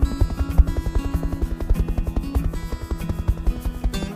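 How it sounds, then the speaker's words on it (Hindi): A toy helicopter made from a plastic bottle flies with rapid rhythmic thumping of rotor blades, steady and close, with a low droning hum throughout and no voices. "यूं वो प्लास्टिक बॉटल हेलीकॉप्टर उड़ाने लगा"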